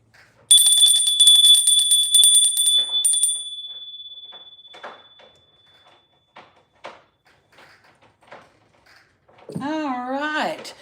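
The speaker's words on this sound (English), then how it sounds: "as soon as I ring that bell" A bell rings loudly at the start and its bright tone holds for several seconds before fading out slowly, with scattered clatter after it and a voice speaking near the end.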